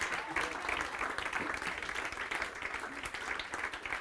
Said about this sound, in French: On va acclamer pour les chantres, pour mes collègues.